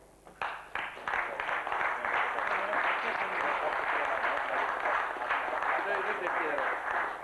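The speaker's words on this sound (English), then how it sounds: "if you can join me in round of applause" A room at a book launch in the House of Lords breaks into a round of applause that starts in a few claps and swells into steady, full clapping, with voices faintly beneath.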